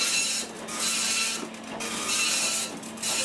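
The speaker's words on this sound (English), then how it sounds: "Second printer's running." Printer running inside a homemade art-making machine, with close mechanical whirring and rubbing in repeated passes that briefly dip between strokes, alone without voices.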